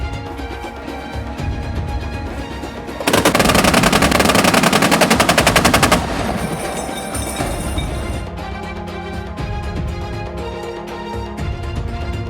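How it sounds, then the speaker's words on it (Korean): A 30mm wheeled anti-aircraft gun fires during an air-defence test, a loud sustained automatic burst of rapid rounds running for about three seconds, set between stretches of steady background music. "대공 사격 시험."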